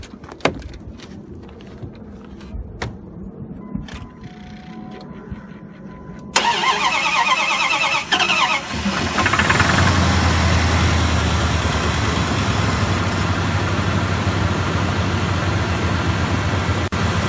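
A Dodge Ram engine cranks, fires up and settles into a steady, loud idle after a battery replacement. A quieter stretch of small clicks and handling comes first, then the engine catches abruptly and runs with a rough, diesel-like rumble.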